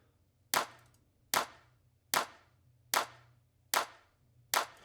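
A dry clap sample, EQed in a FabFilter plugin with its low end cut thin, repeats six times at an even, steady rhythm. Each hit is a sharp, close snap with a short tail, heard alone.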